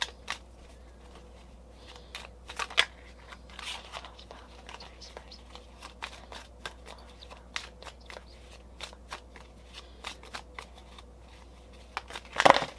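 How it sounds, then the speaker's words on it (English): Sea Melody oracle cards being shuffled by hand: faint, scattered papery taps and flicks spread across several seconds, quiet against a low background hum, with a sharper card snap near the end. "I'm going to use these Sea Melody cards real quick, and we'll shuffle out some messages."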